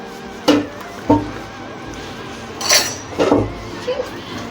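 A spoon scrapes and clinks against a pot while chicken tikka biryani is stirred, giving a few scattered knocks and scrapes over a low background hum.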